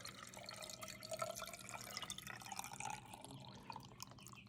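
Water pours and trickles softly over eggs in a jar, a faint, uneven liquid splash with small drips, close and quiet.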